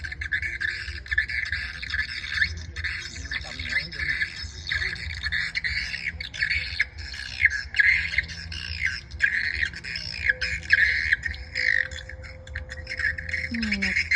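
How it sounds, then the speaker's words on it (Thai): A bird squawks and calls repeatedly over a rice field in the evening, a fairly faint, continuous stream of harsh cries above a low background hum. "นกหนึ่งตัวบินวนอยู่"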